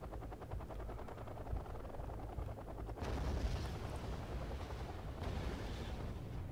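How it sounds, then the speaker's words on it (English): Anti-aircraft gunfire from a Centurion Marksman hitting an Mi-24 helicopter in the strategy game Wargame Red Dragon: dense, rumbling bursts of rapid fire and explosions, louder from midway, with a low helicopter drone underneath. "my Centurion Marksman opens up on the Mi-24"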